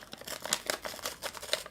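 Paper wrapper tearing and crinkling in a quick series of sharp rips and rustles, close and fairly quiet, with no voices.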